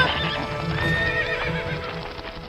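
A cartoon winged horse neighs loudly with a shrill whinny over a rapid, steady clip-clop of galloping hooves, close and continuous throughout.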